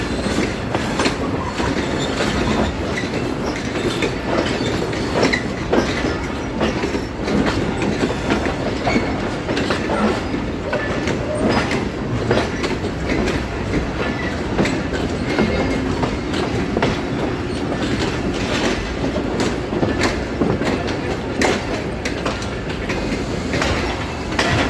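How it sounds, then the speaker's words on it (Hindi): Rail car passing on the railway track at Wazirabad Junction, a steady loud rumble with rhythmic clickety-clack of wheels over rail joints throughout, continuous and close. "ये रही रेल कार हमें पीछे छोड़ते हुए आगे निकलते हुए जाते हुए"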